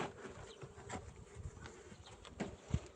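Steady low buzzing of many honey bees at a full hive fills the clip, with occasional louder passes close by and faint knocks in the background.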